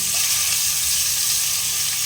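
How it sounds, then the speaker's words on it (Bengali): Boiled potatoes fry lightly in oil left over from frying pointed gourd, giving a steady, close, even sizzle with no talking. "এই পটল ভাজা তেলের মধ্যে আমি আলুটা ছেড়ে দিব, হালকা ভেজে নেব"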